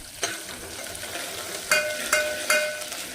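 Cumin, chili and coriander fry in a pan for khichdi, giving a steady, close sizzle broken by a few sharp clinks of stirring.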